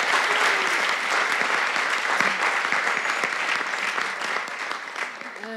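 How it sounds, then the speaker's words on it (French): Conference audience applauding at a French health-data event, a steady, dense wash of many hands clapping throughout, fairly loud and continuous with no pauses. "On applaudit."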